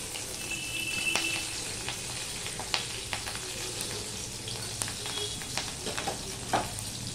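Chopped green chillies hit hot oil in a wok for chilli chicken, giving a steady close sizzle with scattered crackles and small pops throughout, no voices.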